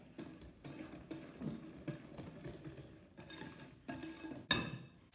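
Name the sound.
whisking vanilla extract into cake batter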